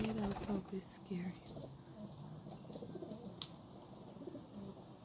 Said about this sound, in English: there are also pigeons nesting over my window